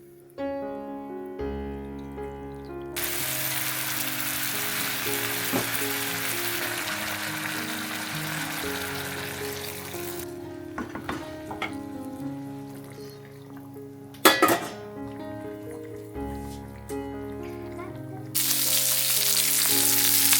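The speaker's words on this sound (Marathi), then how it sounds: "इकडे मी आता लेपा माशाचं फ्राय करायला घेतलं" Lepa fish sizzles steadily as it fries in a pan at home, a dense, continuous hiss with a few sharp clinks, over soft background music.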